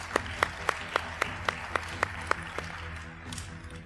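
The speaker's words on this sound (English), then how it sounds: "Please give a round of applause." Rhythmic clapping at a Smart Dubai event, a series of about ten sharp, evenly spaced claps close to the microphone over a faint room hum, fading out after a few seconds.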